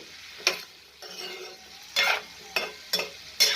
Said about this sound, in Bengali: তারপরে সামান্য হলুদ দিলাম আর এটা আবারও একটু নাড়াচাড়া করে